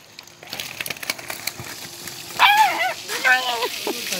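A dog barks in short, sharp yelps outdoors during a tilapia release beside well water, breaking in over people talking nearby.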